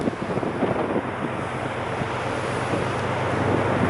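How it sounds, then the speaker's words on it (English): Steady wind gusts at sea buffet the microphone over a broad rushing roar, with water churning beneath it throughout, no voices. "It's getting a bit windy now."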